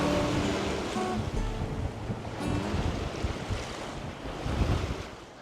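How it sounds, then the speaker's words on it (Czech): Strong, continuous wind at Waterton Lakes National Park, Alberta, buffets the microphone with low rumbling gusts, over a faint wash that could be nearby lake water. "vítr, ten nekončí, ten tady je prostě úplně pořád"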